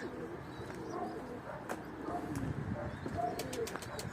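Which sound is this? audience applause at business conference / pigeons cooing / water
pigeons cooing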